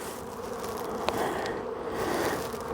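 Honey bees buzz at an open beehive with a strong brood pattern, a dense, continuous close-up hum of many insects filling the air with no talk.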